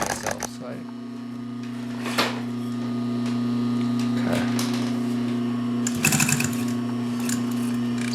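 Pfaff 134 industrial sewing machine stitching through four and eight layers of denim, a steady close mechanical hum with a few louder bursts of needle clatter as speed changes, with a person speaking at times.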